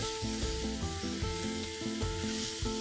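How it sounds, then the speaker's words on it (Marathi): Drumstick pod pieces sautéing in a pan for Maharashtrian shevga bhaji, giving a continuous close sizzle with light stirring scrapes and steady tones running underneath. "आता त्याच्यात आपण शेवग्याच्या शेंगाचे तुकडे घालूया।"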